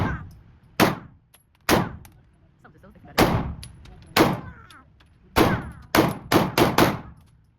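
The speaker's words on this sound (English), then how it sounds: "We just got done shooting." Gunshots at an outdoor shooting range, about ten sharp, loud reports, first spaced a second or so apart and then in a quick final cluster, with faint voices in the gaps.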